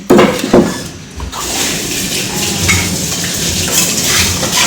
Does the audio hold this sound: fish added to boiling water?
yes